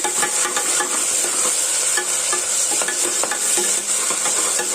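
Ginger garlic paste fries in a pan with a constant sizzle, while a utensil stirs and scrapes at irregular moments; close and steady, with no talking.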